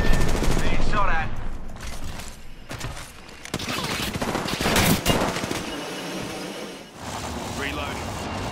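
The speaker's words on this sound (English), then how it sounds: "Taking fire!" Bursts of automatic gunfire and explosions in the battle royale video game Apex Legends crackle loudly and repeatedly across the scene, mixed with game voice lines and character callouts.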